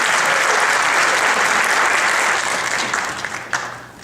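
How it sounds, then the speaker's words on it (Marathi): Loud, dense applause from an audience at a stage event cheering singers. It holds steady and then tapers off near the end. "आतापर्यंत होऊन गेलेल्या गायकांकरता परत एकदा जोरदार टाळ्या होईल."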